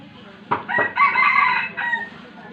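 A rooster crows once close by, a loud sharp onset rising into a long wavering cock-a-doodle-doo that trails off, with faint background noise underneath.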